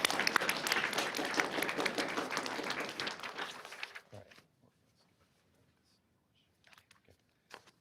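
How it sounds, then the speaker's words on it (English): An audience at a school spelling bee applauds for about four seconds, a dense burst of clapping that cuts off into near silence, followed by a few faint scattered knocks. "Round of applause."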